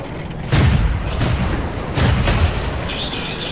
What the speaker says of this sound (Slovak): Ide po mňa artiléria, musím sa tu točiť